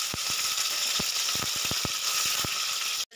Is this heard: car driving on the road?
no